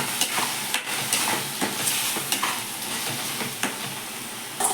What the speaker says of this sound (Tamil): நல்ல எண்ணெயில் ஒரு அஞ்சு நிமிஷம் நல்ல எண்ணெயில் வதங்கி பச்சை வாசனை போகிற அளவுக்கு வதங்கிட்டு